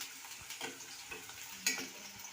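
Chopped onions and a green chili frying in a pan for masala idli give a soft, steady sizzle with a few faint crackles and one sharper clink, quiet and without voices.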